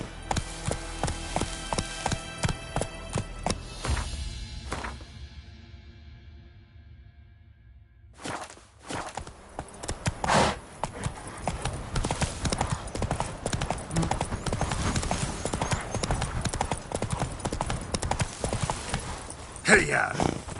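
Horse hooves in The Witcher 3 clip-clopping at a rapid rhythm, fading out briefly midway and then resuming at a steady gallop, loud and close, with game sounds and speech mixed in.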